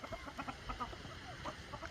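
Roosters and chickens walking about cluck in short, irregular bursts, close but fairly faint, with no talk in between.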